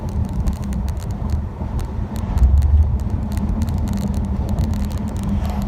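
A 2018 Ford C-Max hybrid running on its 2-liter gas motor cruises along, giving a steady low engine and road drone with wind noise inside the cabin, and a brief swell partway through.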